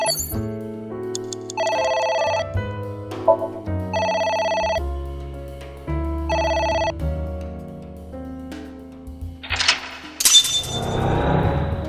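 A phone rings in the video game AI: The Somnium Files, sounding as repeated electronic ring bursts over background game music, followed by a sharp clattering, shattering effect at the end.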